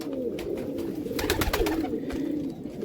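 Soft, repeated pigeon cooing from crossbred pigeons, low rolling coos close by with steady background noise.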